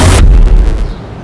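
A single loud, close gunshot blast in a TV crime drama scene, with a sharp burst that drops into a short booming tail.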